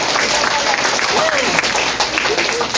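An audience at a distributor orientation claps together, a dense steady patter of applause filling the moment with voices mixed in.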